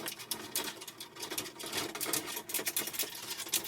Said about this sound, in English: So we'll cut this down.